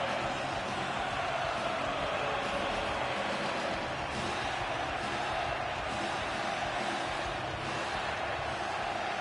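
Steady roar of a hockey arena crowd during a Bruins versus Rangers rivalry game in the NHL 26 video game, a constant dense wash of cheering noise with no clear individual voices.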